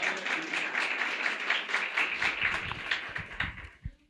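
Church congregation applauding in a sustained, dense burst of clapping that fills the room, with a few louder individual claps and low voice sounds as it winds down.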